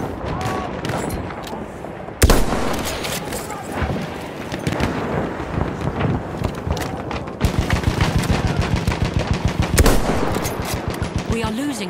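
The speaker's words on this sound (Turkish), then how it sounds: "Makinalı tüfek! Çabuk olun!" Sustained machine gun fire in a video game fills the whole clip. Dense, continuous rattling bursts sit over heavy booming impacts and battlefield explosions, with shouted game voices mixed in.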